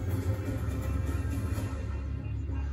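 A loud, busy intro tune for a Street Fighter X Tekken arcade cabinet plays steadily through a sound bar, with dense music filling the whole stretch.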